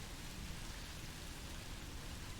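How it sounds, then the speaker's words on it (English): Rain falls steadily in a video game, a faint, even hiss of drops with no breaks and no voices. "Each drop of rain seems to rust it even more."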